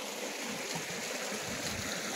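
A dirty-looking village river flowing, a faint, steady broadband rush and trickle of water with no talking.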